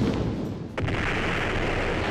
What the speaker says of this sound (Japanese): 爆発した。